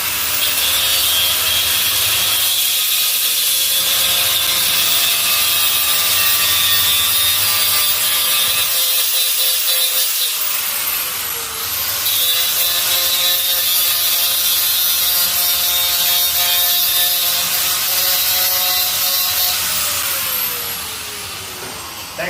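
An angle grinder works steadily on a weld, a loud continuous abrasive whine with slight pitch dips as pressure shifts, running almost unbroken and alone throughout.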